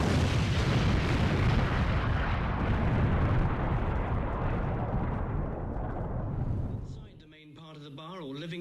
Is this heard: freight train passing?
no